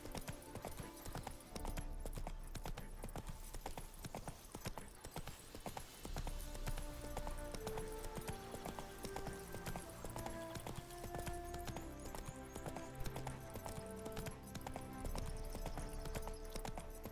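A horse galloping in the video game Witcher 3, with steady rhythmic clip-clop hoofbeats running continuously under a game music score, fairly loud and close throughout.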